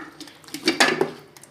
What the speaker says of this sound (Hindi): सबसे पहले कुकर लिया है, कुकर में बीफ डालेंगे।